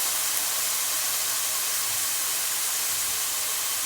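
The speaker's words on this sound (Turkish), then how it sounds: "Etimizi soteledik 5-10 dakika. Üzerine bir adet orta boy soğanımızı ekliyoruz." Medium onion hitting meat that has been sautéing in a pan for five to ten minutes for an okra soup, giving a steady, close, loud sizzling hiss with no breaks and no talking.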